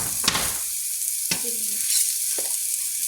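Onions sautéing in a pan, with a steady bright sizzle broken by a few clattering scrapes and stirring sounds, close and clear, with no talk.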